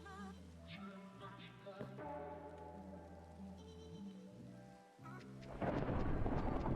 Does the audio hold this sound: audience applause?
no